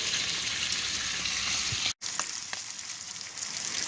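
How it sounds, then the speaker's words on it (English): Fatty food, likely bacon, frying in a Lodge cast iron pan at an outdoor camp cookout, a steady close sizzle with a brief dropout midway and no talking. "We're cooking some fatty foods."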